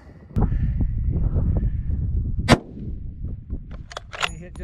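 A single sharp rifle shot cracks out during a Wyoming antelope hunt, loud and close, with a long shot fired at a buck; wind rumble and low background noise run beneath, and a few faint knocks and clicks follow.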